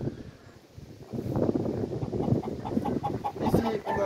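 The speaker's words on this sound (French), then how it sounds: "Donc là on a déjà une petite poule hollandaise ici." Dutch crested chickens clucking softly in a loose, irregular series close by, with light breezy background noise.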